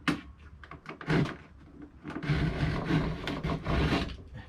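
A hand edge banding trimmer scraping along plywood edge banding, a close rough rasping and rubbing in uneven strokes, fairly loud with short pauses between passes.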